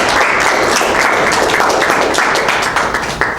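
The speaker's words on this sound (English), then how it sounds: "let's give the sister a round of applause here who helped out, and Brother Harold." An audience applauds at a gathering honoring a woman who helped out, with dense, loud clapping filling the moment and tapering slightly at the end.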